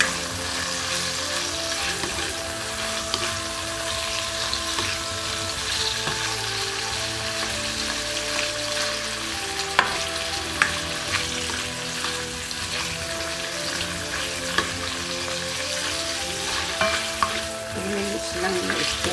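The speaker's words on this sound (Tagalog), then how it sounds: "stir fry po natin ang ating hipon" Shrimp stir-frying in a pan, a steady dense sizzle with scraping and stirring clatter throughout, close and continuous with no talk.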